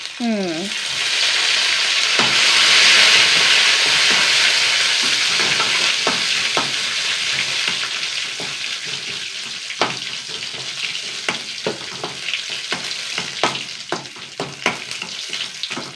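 Dried red chilies and curry leaves crackle in hot oil in a home kitchen, a loud spitting sizzle that swells early, then settles under sharp scraping and stirring clicks throughout.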